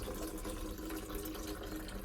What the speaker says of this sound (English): now let all the water from the boiler drain into the condensation pipe,